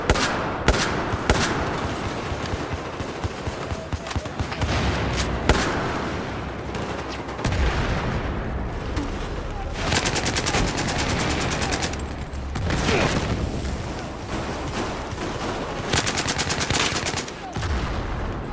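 Bursts of light machine gun fire from a Battlefield shooter game rattle on nearly nonstop, with short pauses between strings of rapid shots and more gunfire in the background.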